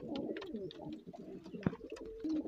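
Pigeons coo repeatedly at close range, low throaty calls overlapping with soft clicks and rustling.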